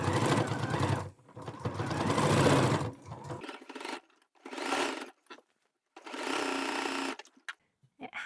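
A sewing machine stitches along the gathered peplum seam of a blouse, running close and loud in several bursts of fast whirring with short pauses between them, and no talking.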